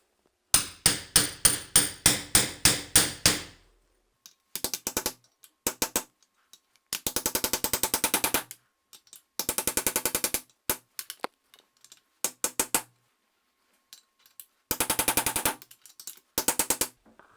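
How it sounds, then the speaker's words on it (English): A hammer drives a spacer into place while an AK handguard kit is fitted, giving quick bursts of sharp metallic taps: first a steady run of about ten strikes, then irregular clusters of rapid blows separated by short pauses. "Take a spacer, take a hammer and hammer it in."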